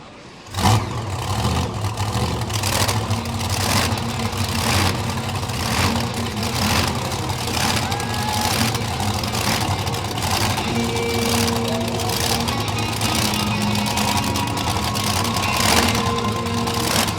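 Monster trucks Killer B and Illuminator sit at the starting line of a championship round at the Montgomery County Fair in Gaithersburg, engines idling loudly with steady rumble and occasional revs throughout.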